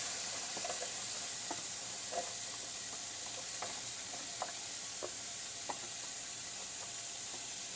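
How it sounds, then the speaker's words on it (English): Chopped onions and garlic fry in hot olive oil in a pot, a quiet steady sizzle with scattered small pops and crackles throughout and no talking. "we're going to add our chopped up onions and garlic right to the pot and get that going"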